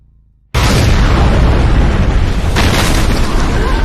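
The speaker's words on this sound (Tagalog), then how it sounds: "dito na agad sumabog ng malakas ang bomba" A sudden, massive bomb blast after a half-second of quiet, followed by a sustained roaring rumble with a second surge of debris-like crackle.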